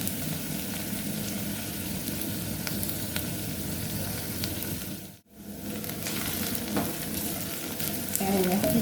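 Chopped onions fry uncovered in an open pan, giving a steady, close sizzle and crackle that runs continuously with a brief dropout midway and slight stirring noises near the end.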